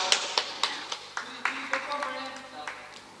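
Scattered rhythmic claps from a small audience at a squash tournament final in Yongin, sharp evenly spaced hand claps over a few seconds with a voice talking beneath.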